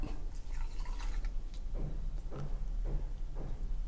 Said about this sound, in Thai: คราวนี้เราก็จะกรองกากชาทิ้งไปนะครับ